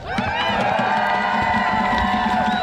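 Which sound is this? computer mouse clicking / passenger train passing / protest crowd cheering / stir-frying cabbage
protest crowd cheering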